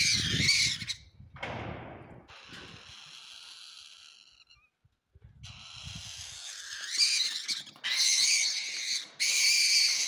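An owl in Brazil gives harsh, raspy squawks in repeated bursts while fighting a three-banded armadillo, with loud close calls broken by short near-silent gaps and scuffling noise.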